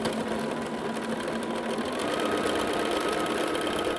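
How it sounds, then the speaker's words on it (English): A sewing machine stitches a scant quarter-inch seam on a star quilt block, running steadily and close by for the whole stretch with no talking. "Now I'm going to turn it around and sew a scant 1/4 inch on the other side of the line."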